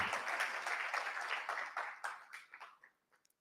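Applause from an audience at a close-out event for a children's services programme, dense clapping that runs steadily and then thins out into a few scattered claps before stopping.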